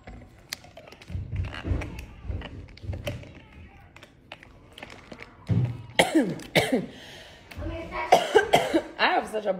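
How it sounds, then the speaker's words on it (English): Repeated bursts of coughing, some harsh and throaty, scattered across the clip with a few soft taps and thuds between them. "I have such a bad cough, guys."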